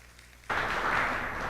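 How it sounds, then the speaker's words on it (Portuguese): Applause from a church congregation during a worship service starts abruptly after a brief quiet moment, then holds as a dense, steady wash of clapping at fairly close range. "um forte aplauso"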